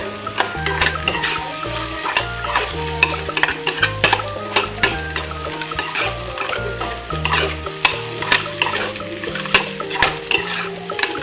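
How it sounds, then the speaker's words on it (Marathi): Ground peanut powder stir-roasted in a pan for peanut chutney, a continuous busy run of scraping and clinking spatula strokes over a dry sizzle, close and loud with no talk. "यामध्ये मी शेंगदाण्याचा बारीक केलेला कूट सुद्धा टाकून घेणार आहे आणि आता हे मी चांगल्या प्रकारे परतून सुद्धा घेणार आहे"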